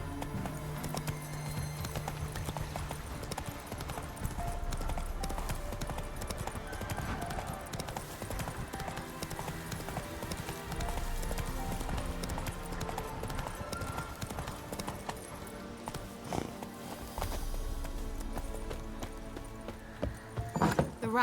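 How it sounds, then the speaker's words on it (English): Horse galloping in The Witcher 3 video game, rapid rhythmic hoofbeats continuing steadily under music and game ambience, with a brief whinny. "Run, Roach."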